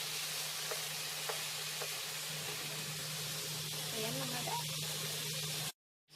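Pork for caldereta sizzles and fries steadily in a pan, a constant close hiss with faint stirring clicks, before cutting to silence at the end.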